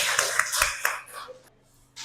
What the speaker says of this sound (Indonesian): Tepuk tangan lagi buat Rania.